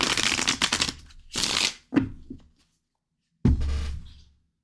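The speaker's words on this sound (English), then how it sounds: "Sita, let me shuffle." Playing cards shuffled for a tarot-style reading, riffled in several distinct bursts with short pauses between them, close and fairly loud, with no talking over them.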